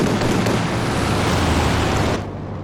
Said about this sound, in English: B4's barraging the base.